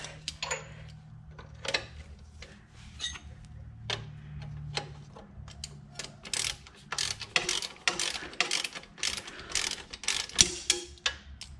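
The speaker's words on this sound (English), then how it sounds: "now we'll tighten up our pinch bolts" Ratchet wrench tightening the pinch bolts on a 13-tooth sprocket of a Yamaha Banshee, a series of rapid close clicking bursts with short pauses between them, growing louder toward the end, no talk.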